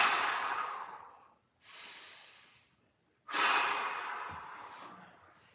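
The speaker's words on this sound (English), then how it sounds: "Nice big inhale." A person takes slow, deep breaths during a mobility stretch, with a long airy inhale, a pause, then another strong breath, close up and with no talking.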